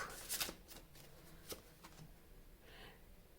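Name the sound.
tarot cards being shuffled for a reading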